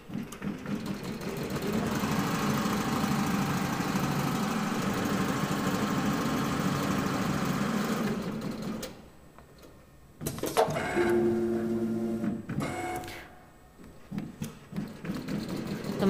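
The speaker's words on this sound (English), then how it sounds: "The machine now is sewing the leather and the foam and all non-woven fabric together." An automatic sewing machine stitches leather, foam and non-woven fabric for automobile interiors, running with a steady mechanical whir for about eight seconds, then stopping, followed by shorter bursts of motor hum and clicks.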